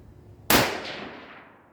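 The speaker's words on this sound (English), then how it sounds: "I believe that one was me, folks. I pulled that last shot." A single rifle shot fired during load workup, one sharp loud crack that bursts in suddenly and then fades away in a long rolling echo, with no other sound around it.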